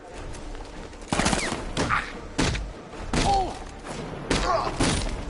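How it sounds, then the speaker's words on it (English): Video game gunfire cracks out in several loud, broad bursts separated by short gaps, with background game noise between shots. "I could keep shooting you all night"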